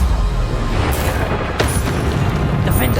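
Bombarda spell blast in Hogwarts Legacy combat, a dull booming explosion amid dense game sound and music, loud and continuous.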